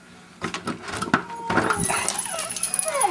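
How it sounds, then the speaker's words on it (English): Dogs indoors at a house, whimpering and stirring with collar tags jangling and a door sound, busy close movement with some voices in the background. "It's the dogs."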